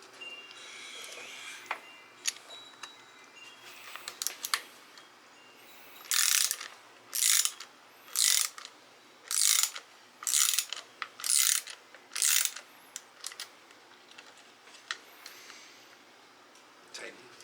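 A ratchet tightens a bolt on the hand-guards of a 2020 Harley-Davidson Road Glide, a close series of about seven sharp ratcheting bursts in a steady rhythm, with scattered clicks before and between them.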